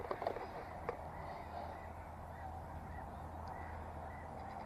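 Ducks out on the water at an RSPB nature reserve give faint, distant honking and quacking calls, scattered over a quiet outdoor background with no talking.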